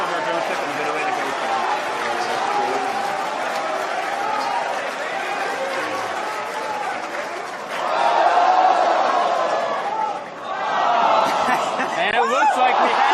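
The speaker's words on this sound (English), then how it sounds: "you're hearing everyone cheer right now" A large crowd cheers and shouts continuously at a Falcon 9 first-stage drone ship landing, a loud, sustained roar with chatter that swells even louder toward the end.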